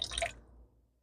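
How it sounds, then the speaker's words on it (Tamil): Tamarind water is poured into a pot of Tamil kara kulambu, a brief close splash lasting about a third of a second before fading out. "புளி தண்ணியை சேர்த்துக்கிறோம்."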